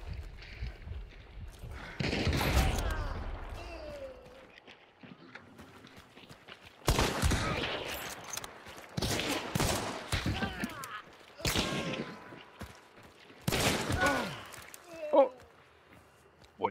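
Sniper rifle shots ring out in the game Hunt: Showdown, a few loud sharp cracks spaced several seconds apart with rolling echoes, among horse clip-clop and footsteps in woodland, with players talking over it.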